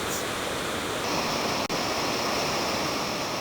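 Rushing river and waterfalls along a trekking trail in Nepal make a loud, steady broadband roar of churning water that holds unbroken throughout, with only a brief click partway through.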